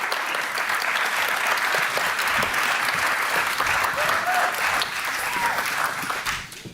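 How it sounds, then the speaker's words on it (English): Audience applause at a summit for a third prize winner, a dense and steady crowd clapping that holds for several seconds and then begins to thin toward the end. "Let's have another round of applause."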